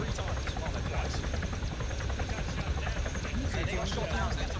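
Helicopter flying in the military video game Arma 3, a steady loud rotor and engine roar throughout, with players talking over it.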